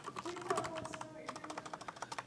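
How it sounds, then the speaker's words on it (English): Rapid, quiet keystrokes on a computer keyboard clatter in quick bursts, soft and close, with a person talking over the first part. "Look at Jonathan just typing away."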